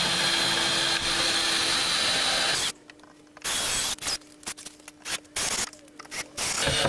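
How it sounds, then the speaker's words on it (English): A power drill drives a screw into wood while a wooden box is assembled, with a long steady whir followed by several short, separate bursts of drilling, close and fairly loud. "Get a second screw in."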